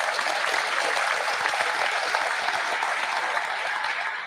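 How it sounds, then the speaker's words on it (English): A crowd at an energy department celebration of a manufacturing grant gives a dense, steady round of applause, continuous clapping throughout before easing off at the end. "Give him a round of applause and the rest of the team for that."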